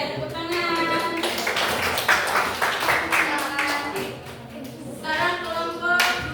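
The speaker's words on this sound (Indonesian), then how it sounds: "Oke, tepuk tangan." Classroom audience clapping after a student group presentation on artificial intelligence tools, with uneven bursts of hand claps rising and falling while voices talk over them.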